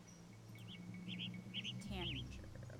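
Tanager bird calls from the Nancy Drew game Ghost Dogs of Moon Lake: a few short, bright chirps repeat over a low steady hum, with a faint background murmur and a brief louder trill near the end.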